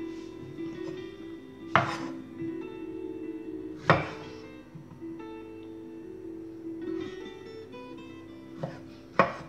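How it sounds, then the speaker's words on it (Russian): Sparse knife chops slicing strawberries on a cutting board, a few sharp thuds spaced seconds apart over a quiet background hum. "нарезка клубники в процессе"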